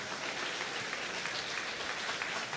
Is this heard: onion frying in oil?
no